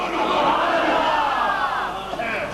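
An audience at a religious speech gathering shouts a loud response in unison, a dense roaring crowd cry that swells and then tapers off.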